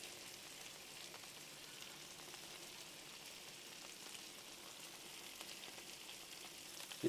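Shrimp and sausage skewers sizzle on a barbecue grill with a steady, faint hiss and crackle that holds unbroken throughout, no voices.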